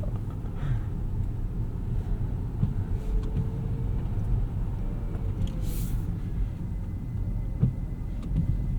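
A 2025 Lucid Air Touring electric sedan drives on the road, heard from inside the cabin. A steady low rumble of road noise fills the scene, with a faint, thin motor whine rising above it.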